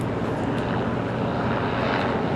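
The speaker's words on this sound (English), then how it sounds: "Fox News is flying by in their helicopter right now." A news helicopter passing overhead produces a dense, steady engine and rotor roar that fills the whole stretch at constant loudness, with no voices.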